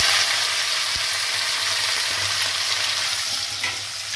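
Small pumpkin pieces frying in hot oil with tempered spices, a loud continuous hiss and sizzle close up, steady throughout with a faint scrape or two.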